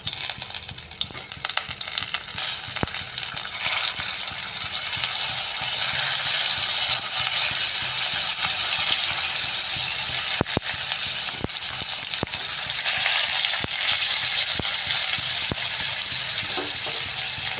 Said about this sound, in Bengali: সব আলুগুলো আমরা ফ্রাই করে নেব